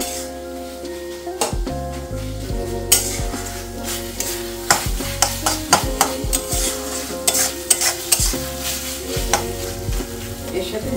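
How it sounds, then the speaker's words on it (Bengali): A dried fish bhorta mixture is stirred briskly in a pan, with loud, close, repeated scraping and knocking strokes in an irregular rhythm over a steady sizzle. "এর মধ্যে এটা দিয়ে ভালো করে নেড়ে দেবো"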